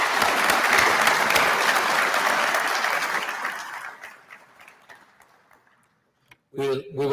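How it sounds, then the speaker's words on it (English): A crowd at a sheriff's office police awards ceremony gives a loud, sustained round of applause that slowly thins and fades to near silence, before a voice begins speaking. "Let's give them another round of applause"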